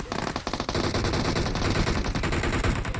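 Rapid, dense automatic gunfire in PUBG Mobile, sustained bursts of sharp shots crackling continuously for several seconds, loud and close with overlapping reports.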